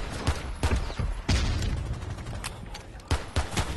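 Gunfire in Rainbow Six Siege comes in sharp repeated bursts and single cracks, irregularly spaced and fairly close, over a busy game background.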